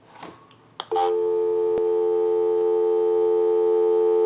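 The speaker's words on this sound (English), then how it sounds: "We'll call my number and it'll be busy." A few clicks and a short burst of noise, then a loud continuous telephone busy signal hums on steadily without pause, from an original-model Mickey Mouse telephone.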